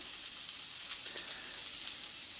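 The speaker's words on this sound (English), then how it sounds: "There goes the garlic." Garlic sizzles in hot oil in a pan, a soft, steady frying hiss that stays faint and even throughout, with no voices over it.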